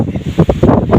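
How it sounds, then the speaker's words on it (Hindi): Strong cold wind gusting in a Himachal village, buffeting the microphone in loud, uneven surges that rise and fall across the moment, close and rough, with no talking. "गाइस इतनी ठंडी यहाँ हवा चल रही है कि हम बता ही नहीं सकते"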